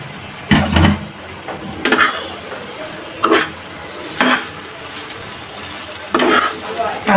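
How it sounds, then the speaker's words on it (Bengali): Fried potatoes added to a pan and stirred for chilli potatoes, with several bursts of spatula scraping and clattering against the pan over a low sizzle while someone talks. "এবার দেব আলু যে ভেজে রেখেছিলাম, এই আলুগুলো দিয়ে চিলি পটেটোস বানিয়ে নিব"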